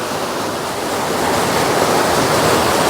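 Warm water poured steadily into a rinse bowl for wet shaving, a continuous loud close splashing rush that holds evenly throughout and builds slightly toward the end.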